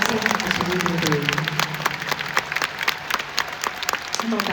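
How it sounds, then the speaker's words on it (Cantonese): A large concert crowd at a Kai Tak thank-you show in Hong Kong claps loudly and steadily, dense applause filling the whole stretch while a voice speaks over it. "呢個掌聲係屬於你哋"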